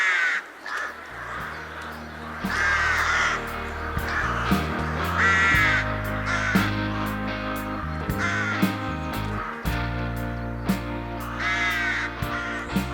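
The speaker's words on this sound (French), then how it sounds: "Mais que disent les légendes des corbeaux sur l'espèce humaine ?" Crows cawing repeatedly, harsh calls in uneven bursts of two or three over a sustained low musical drone, loud and near.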